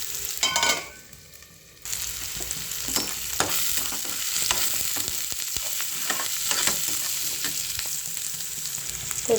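Steady loud sizzling of ginger and garlic frying in a pan, with stirring scrapes, a brief dip in the middle of the sizzle, then continuous crackling frying.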